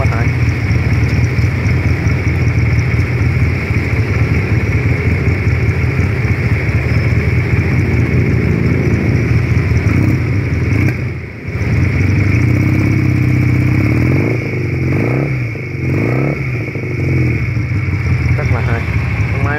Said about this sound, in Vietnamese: Nó vẫn còn nổ máy nha anh em.